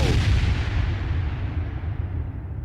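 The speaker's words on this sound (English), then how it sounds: "The song ended with that explosion." An explosion closes out a song: a loud, close blast with a deep rumbling body, decaying gradually over a couple of seconds as the high end fades away.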